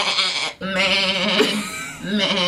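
A person imitates a sheep with a loud, wavering vocal bleat, two drawn-out cries close to the microphone separated by a brief gap, the voice quivering like a bleating sheep.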